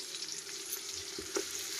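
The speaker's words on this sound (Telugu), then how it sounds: "లైట్ చివరిగా వేగిన తర్వాత ఆనియన్స్ అయితే వేసేసుకుందాం" Onions fry in a pan for a chicken curry, giving a soft, steady sizzle with a few faint stirring scrapes, quiet and close.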